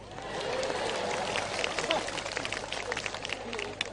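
A large crowd at a big Islamic religious gathering in Kalimantan claps steadily throughout, a dense, continuous wash of applause with background murmur and no clear pauses.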